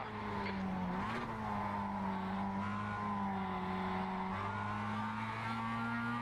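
Mazda MX-5 race cars in the iRacing game during a Global MX-5 Cup race at Oran Park, a steady, loud engine whine holding a high pitch with slight rises and dips as a car is passed, no talking.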